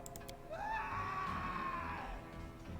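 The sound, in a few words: scream in the video game Pathfinder: Kingmaker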